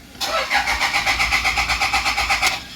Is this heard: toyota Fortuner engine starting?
yes